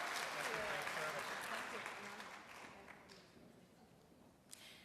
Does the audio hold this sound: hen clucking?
no